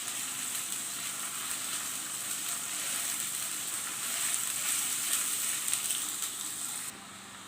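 Finely chopped onions sizzle steadily in a pan as they fry toward light golden for urad dal (maash ki daal), a dense, even hiss that swells slightly midway and drops a little at the end.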